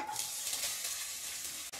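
Steady, bright sizzling of three large chopped onions frying in hot oil for mushroom masala, close and continuous, with a faint stir and a brief clack near the end.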